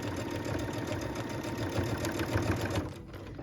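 A sewing machine runs steadily while stitching a tablet sleeve, with a fast continuous mechanical whir close by that drops off at the very end.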